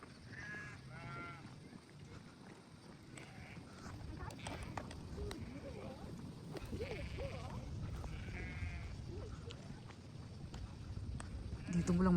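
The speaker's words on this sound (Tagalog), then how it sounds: "Dito mo lang makita yung maraming tupa sa taas." Sheep bleat faintly from a grassy hilltop on One Tree Hill in Auckland, New Zealand, a few calls scattered through wind noise and close conversation.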